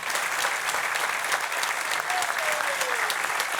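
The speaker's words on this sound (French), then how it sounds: "on peut les applaudir" Dense, steady applause from an audience greeting a troupe of comedy performers, a sustained wash of many hands clapping at full volume for several seconds with no break.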